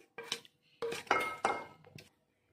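Cooked mint mixture is scraped from a metal pan into rice in several short bursts of spoon-on-pan scraping and clinking, close and fairly quiet, separated by brief pauses, with no talk.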